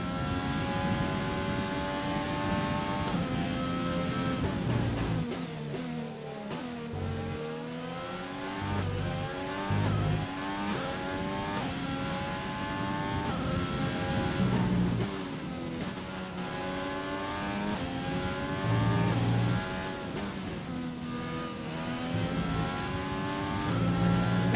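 A McLaren Formula 1 car in a racing video game at the Austria GP screams through repeated rising revs and gear shifts. The engine note climbs and drops in cycles, steady and close, with no talking.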